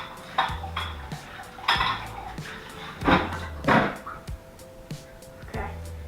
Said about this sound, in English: I'm just gonna rinse that out and reuse it.